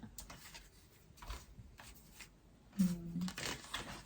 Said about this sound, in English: I also want to pull some cards